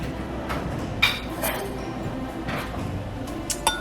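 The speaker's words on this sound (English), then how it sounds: "whisk this all up together" A fork clinks against a bowl while whisking eggs with vanilla for chocolate chip cookie dough, a few light, scattered taps and scrapes, quiet and close, over soft background noise.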